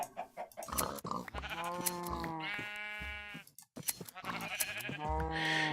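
Sheep in the Minecraft modpack Agrarian Skies bleat repeatedly, several loud, close, wavering cries following one another with short gaps, alone without talk.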